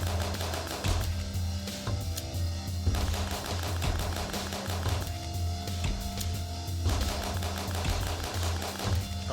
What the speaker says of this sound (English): I like that I'm shooting BB pellets of light at them.